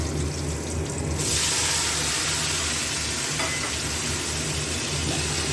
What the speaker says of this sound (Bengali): কালো জিরে কাঁচা লঙ্কা ফোড়ন দিয়ে এবার দিয়ে দেবো হচ্ছে পেঁয়াজ কলি আর বেগুন কেটে রেখেছি, ওটা দিয়ে দেবো।